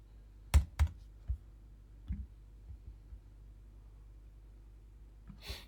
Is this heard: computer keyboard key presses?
yes